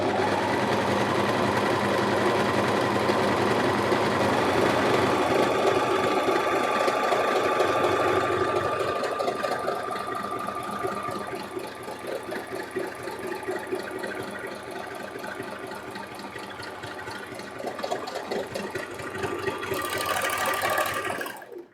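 A sewing machine runs continuously while sleeves are sewn, a steady mechanical whir and rapid needle clatter that eases slightly partway through, close and loud with no talk.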